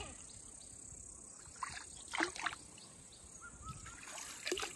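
A small mountain stream trickles quietly beside a hillside, a soft steady flow with a few brief splashy bursts and faint bird notes, heard at a distance with no talking.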